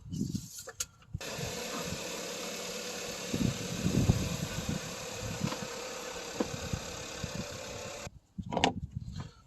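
A 2013–2018 Hyundai Santa Fe 2.0T engine idles steadily just after an oil change, a close, even hum with light knocks and clicks over it, briefly cut near the start and end.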